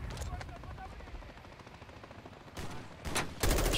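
Gunfire in the Call of Duty: Modern Warfare III campaign, with a low rumbling vehicle or helicopter bed and then a few sharp shots growing louder near the end.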